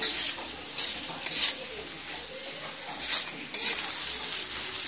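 Bitter gourd and potato pieces frying with spices in a pan, sizzling continuously while a utensil stirs and scrapes in a few bursts, close and fairly loud.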